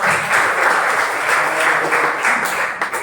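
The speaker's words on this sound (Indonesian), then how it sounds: "Kasih applause dulu untuk Wahyu ya." A classroom of students claps together in a dense, steady burst of applause for about three seconds, close and loud, fading slightly at the end.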